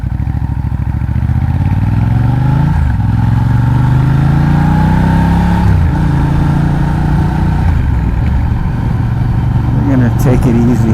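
A 2012 Ducati Diavel with a Termignoni exhaust rumbles along on a ride, its engine note climbing and dropping through several gear changes, loud and close, with wind noise over it.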